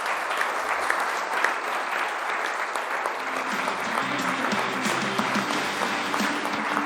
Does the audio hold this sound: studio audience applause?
yes